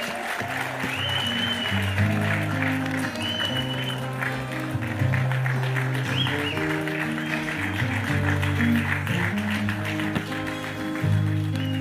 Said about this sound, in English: A resounding round of applause, please.